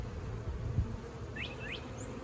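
Honey bees buzz around a hive that appears ready to swarm, a low steady drone close by with a few brief chirps rising over it.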